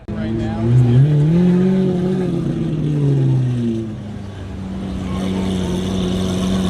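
A modified JDM V-Spec car's exhaust revs loudly at close range, the engine note rising and falling through several pulls before settling into a steady idle-like drone.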